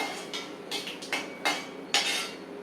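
Chana dal and peanuts tipped into a pan of sautéed mint, curry leaf and coriander paste, giving four or five sharp metallic clinks and scrapes at close range, with no talk.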